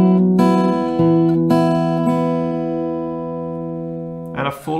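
Acoustic guitar rings out a few plucked open-string notes on E, the strings sustaining and blending into a bright, lingering chord before a brief scratchy shift at the end; close and clear, with no voices.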